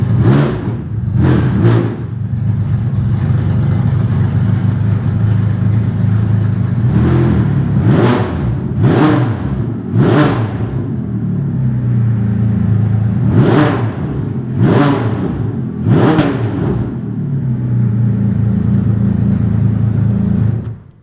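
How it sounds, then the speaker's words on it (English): A Porsche 962 race car engine idles with a loud, deep, steady rumble after its first start, broken by several sharp throttle blips that rise and fall. "Car running."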